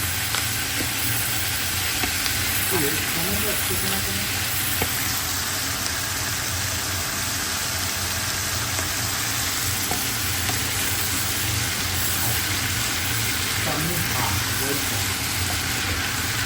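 Onions sauté in two pans at once for a home-cooked Ramadan sehri meal, giving a constant, even hiss throughout with faint speech drifting over it.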